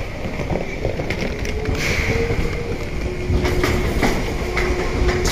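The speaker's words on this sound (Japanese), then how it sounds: "宮島口に向けて発車する路面電車でございます" A Hiroshima streetcar pulling away toward Miyajimaguchi near the station, a steady rumble of wheels and motor with rail clatter and a faint tonal whine, no talk.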